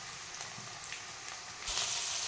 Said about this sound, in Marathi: छान अशी परतून घ्यायचं आता बघू शकता